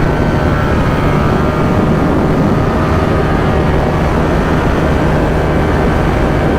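A motorcycle cruising at a steady throttle makes a continuous, loud engine drone blended with rushing wind, holding an even level throughout with no talking.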